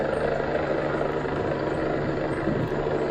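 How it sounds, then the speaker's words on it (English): A helicopter landing on a boat near Pottersville, Dominica, with a steady, moderately distant rotor and engine drone that stays constant throughout and no one speaking over it. "this is the helicopter landing on this boat"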